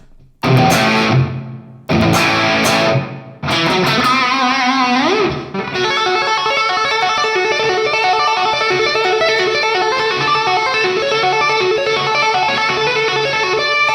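Electric guitar run through a Valeton GP-200X with delay, feedback and reverb plays loud: a few sharp chords with short gaps, then a sustained wash of repeating echoes ringing out for many seconds.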